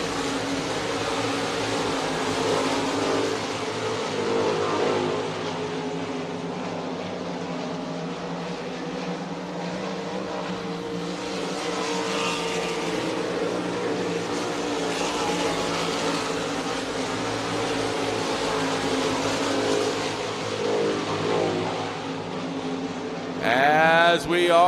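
RaceSaver sprint cars roar around the dirt oval at Crawford County Speedway during a heat race, a continuous, loud, rising and falling engine drone that swells as the cars pass, with an announcer talking over the top.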